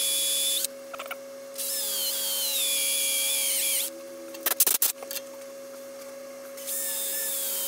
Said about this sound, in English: I'm just going to put a load of random holes using this 12mm drill bit